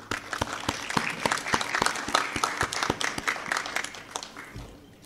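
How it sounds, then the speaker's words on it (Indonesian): Guests at a wedding reception clap for the bride and groom, a dense burst of sharp, rhythmic hand claps that holds steady for several seconds before thinning out near the end. "mari kita berikan tepukan gemuruh sebagai tanda tahniah dan syabas kepada pasangan pengantin"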